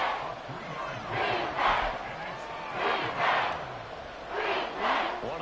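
Crowd in a Madden NFL football video game cheers in rolling swells that rise and fall several times. The crowd swells sit under a commentator's voice.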